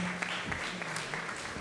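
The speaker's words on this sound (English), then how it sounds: "we're going to start with a round of applause, of course" An audience at a startup pitch event on a main stage applauds in a steady, dense patter, moderately loud and continuous.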